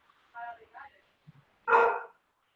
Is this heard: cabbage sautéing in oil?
no